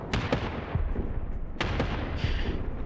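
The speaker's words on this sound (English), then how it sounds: "Airstrike." Airstrike explosions in Arma 3 come as several sharp, booming blasts scattered over a few seconds amid continuous rumbling battle noise.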